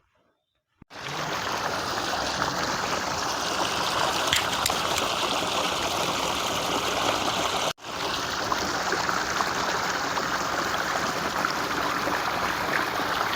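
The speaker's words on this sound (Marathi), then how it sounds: "खालची विहीर जी आहे त्या विहिरीचं पण पाणी येतं." Water from a well pump motor gushing onto a village farm field, a loud continuous rushing flow that starts abruptly, breaks off briefly midway, then resumes.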